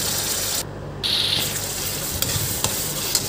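Onions and okra being stirred into a fried masala gravy in a pan for a curd okra dish, a steady sizzle with soft scraping movement close by, no talking.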